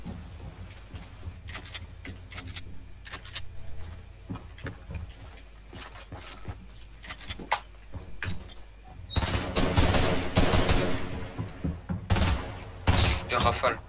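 Video game gunfire crackles in short bursts under ongoing speech, then heavy, loud rapid fire erupts near the end in several dense volleys.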